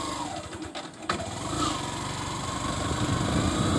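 A motorcycle engine runs loud and continuous, with a brief dip around one second before surging again under heavy throttle, as a learner rider over-revs and lets the clutch out too fast.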